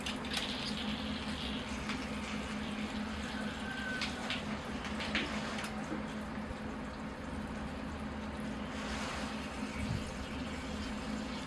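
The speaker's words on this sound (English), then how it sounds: "I'm going to give it a water, just to water it in." Water is poured onto the soil of a freshly planted ficus microcarpa bonsai cutting in a pot, a continuous close trickling and splashing that runs steadily without pause.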